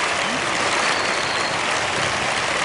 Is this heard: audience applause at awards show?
yes